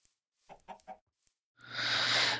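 Short clucks from chickens in the Minecraft video game come in a quick burst of three, followed by a louder rushing, hissing game sound.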